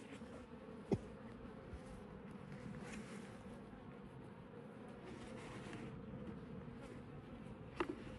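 Honeybees buzzing at an open beehive, a steady, fairly faint drone throughout with two brief sharp knocks standing out.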